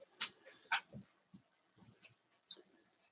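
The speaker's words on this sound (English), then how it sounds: "My dog's restless over here." A restless dog whimpers and whines indoors in short, high-pitched bursts with soft pauses between them, fairly close by, with a few low grunts mixed in.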